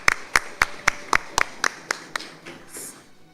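Applause at a youth development graduation ceremony, heard as a sparse run of about ten separate, evenly spaced claps that thin out and fade toward the end.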